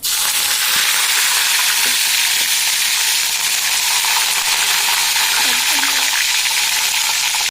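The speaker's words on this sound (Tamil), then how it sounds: "இதெல்லாம் கொஞ்சம் நல்லா பொரிஞ்சதுக்கு அப்புறம் ஒரு 10 கருவேப்பிலையை வந்து கழுவிட்டு இதில் போட்டுக்கலாம்" Fennel seeds and curry leaves frying in hot oil, a steady, loud sizzle and crackle that fills the whole stretch, with a few faint clinks of a utensil.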